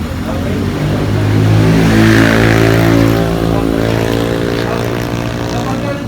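An ATV engine drones loudly and steadily close by, its pitch swelling slightly and then easing as the throttle is worked, with a voice faintly audible beneath it.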